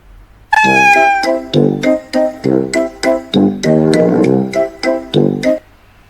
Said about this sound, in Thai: แมวหันแตงกวา